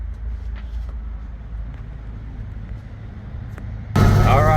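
A 1934 Ford BB stake bed truck idles with a low, steady engine rumble that then swells into a louder, fuller roar as it pulls away in third gear.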